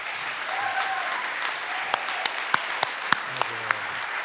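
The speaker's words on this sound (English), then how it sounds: "let me please ask you for a tremendous applause for this man." Audience applause for cinematographer John Seale after a conversation event, a full sustained round of clapping from the crowd with a few louder sharp claps standing out near the end.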